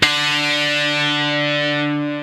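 A single distorted electric guitar chord of two notes an octave apart rings out and sustains, slowly fading, heard alone and up close.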